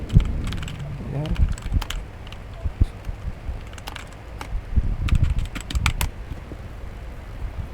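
Computer keyboard typing while entering commands during a database server setup: irregular bursts of sharp clicks spread across the clip, fairly close, with a faint low voice in the background at times.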